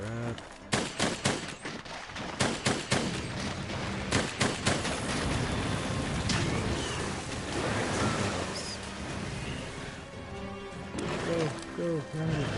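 Rapid gunfire from a bowgun in Monster Hunter World, with bursts of sharp repeated shots in the first few seconds and more near the end, over a steady roar of game ambience and a voice.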